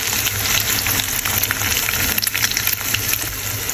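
Sausages and an egg frying together in a pan, a dense, loud, continuous sizzle and crackle filling the whole stretch with no talk over it.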